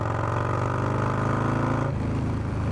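A motorcycle fitted with an S&S Cycle 55mm intake manifold runs steadily at close range, its engine note holding level and then dropping to a lower, lumpier pulse as it is ridden.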